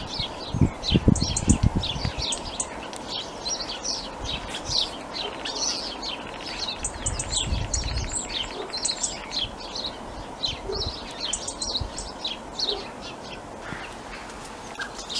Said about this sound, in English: The starling's doing a hell of a concert on its own.